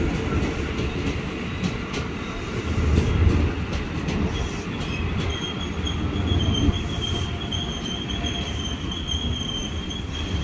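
A KRL Commuter Line electric train rolls into Jakarta's Mangga Besar station with a steady loud rumble, wheel squeal and rail clatter filling the platform for several seconds, no voices heard.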